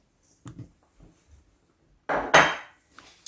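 Powdered sugar tipped into a bowl of thick curd while making a tiramisu cake, heard as a few soft taps and scrapes followed by a louder rustling pour and clink near the end, with no talking.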